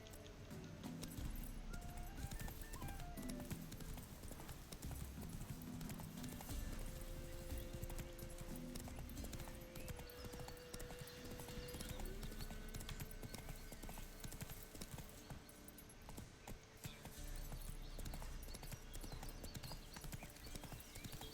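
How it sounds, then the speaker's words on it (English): Horse hooves clip-clopping steadily as the player rides a horse in The Witcher 3: Wild Hunt, a continuous even trotting rhythm over game music and ambience, with faint tack jingles throughout. "Pues, para esto coge el caballo."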